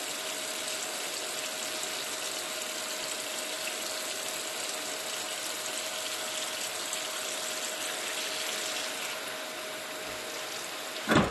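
Cold fresh tap water pours steadily into a plastic bottle packed with cucumbers for winter pickling, a continuous broadband gush running nearly unbroken for about eleven seconds before a brief knock at the end.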